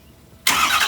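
A 2016 Ford F350 pickup truck's engine starts up abruptly after a brief quiet moment, turning over into a loud, steady, broadband rumble close by with no talking.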